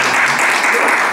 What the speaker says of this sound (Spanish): aplausos por las opiniones de los especialistas